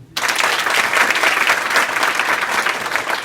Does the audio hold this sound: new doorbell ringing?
no